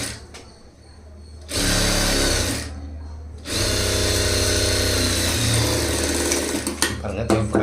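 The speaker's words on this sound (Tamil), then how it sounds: "ஃப்ரண்ட் சைடு தையல் போட ஆரம்பிச்சிடலாம்" A sewing machine runs on the front side of a blouse in two long, loud, steady bursts with a short pause between them, its motor drone strong and close, and faint handling at the end.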